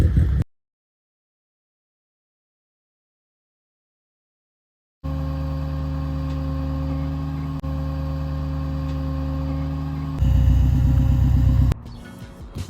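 A Subaru engine idles in a steady, loud, close drone with a constant low hum, stepping up to a harsher, louder rumble near the end.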